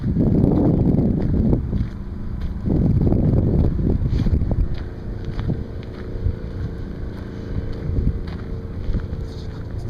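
Wind gusting at a harbor on Resurrection Bay, a steady rushing roar with buffeting bursts in the first few seconds, then easing to a lower, continuous blow with faint boat-like rumble underneath; no speech.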